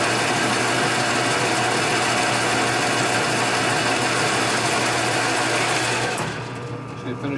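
Metal lathe cutting a car shock bolt, a steady, loud, whirring machining drone that continues throughout and eases near the end, with people talking over it.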